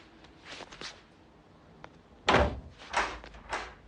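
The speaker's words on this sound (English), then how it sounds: "May I close the door?" A door swings shut in a 1985 horror film scene, with a few soft bumps and shuffles first, then a loud close-range slam followed by several lighter knocks and thuds as it settles.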